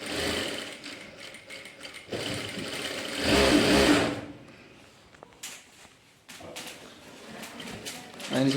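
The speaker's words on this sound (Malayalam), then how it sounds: "ഇനി നമ്മൾ ഇതിൻ്റെ മാക്സിമം സ്പീഡിലേക്ക് ഇടുകയാണ്." A Jack F5 sewing machine running at its maximum speed setting, a fast steady mechanical whirr that comes in bursts and stops, close and fairly loud, with brief quiet gaps and other clicks between runs.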